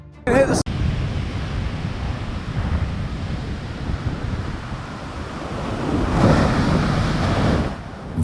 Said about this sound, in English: Violent waves crashed into West Bengal, shattering the boardwalk.